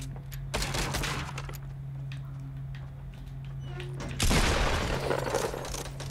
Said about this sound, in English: he's trying to shoot you through the window